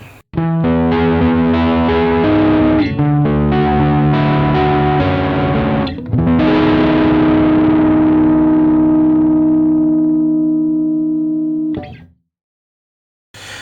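Thick, saturated electric guitar through a Surprise Sound Lab Rock Block distortion pedal at maximum gain, chords ringing and decaying slowly, a final struck note at the end before silence.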